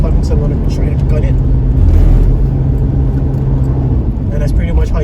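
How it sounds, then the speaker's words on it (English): A car accelerates hard to overtake on a road while driving north in the Philippines, its engine a steady, loud drone that swells briefly, with constant road noise throughout. "There's a vehicle coming, so I'm gonna try to gun it."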